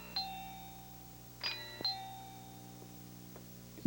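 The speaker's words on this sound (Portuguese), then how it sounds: "E essa também é campainha de casa." A house doorbell used as a dubbing sound effect, giving a few bright chime tones with two quick strikes near the middle, heard fairly clearly over a low steady hum with no talking.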